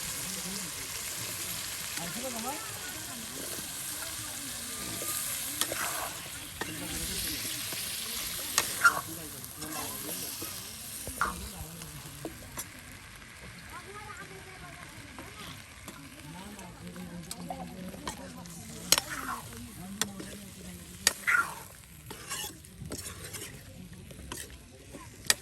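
Chunks of potato and braised meat stirred and frying in a pot on an open fire in cold winter weather, a steady crackling sizzle with scraping and clattering stirs, sharper scrapes standing out near the end.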